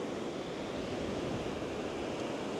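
Ocean surf breaks along the shore at a beach where a remote-control fishing surfer boat is launched, a continuous broad wash of waves rolling in without pause, fairly close and steady in level, with no talking.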